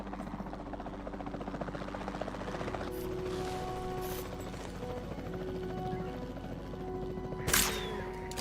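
Helicopter in the video game Jurassic World Evolution 2, a steady droning rotor buzz held throughout at moderate level, with a brief louder burst near the end.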